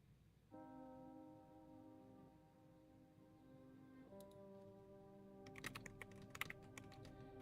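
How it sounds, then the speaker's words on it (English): A clicky computer keyboard being typed on in a few quick bursts of sharp clacks near the end, faint behind sustained background music and close to the microphone. "My new clicky keyboard you can hear."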